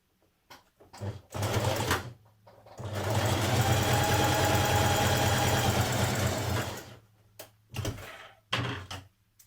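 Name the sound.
sewing machine stitching jersey dress shoulder seam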